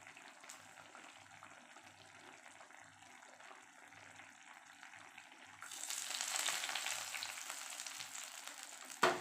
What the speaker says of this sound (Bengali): তেল গরম হয়ে গেছে সর্ষে ফোড়ন দিচ্ছি